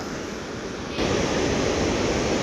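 Barachukki waterfall roaring as a broad, steady rush of falling water, loud and close, jumping suddenly louder about a second in.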